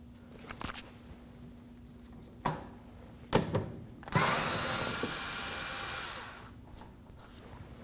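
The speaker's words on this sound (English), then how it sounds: "In this case, I'm using an electric screwdriver." An electric screwdriver removes Phillips screws from the inner fender well of a 2014-2020 Acura MDX: several short clicks and bursts, then a loud sustained whir of about two seconds, followed by softer handling clicks.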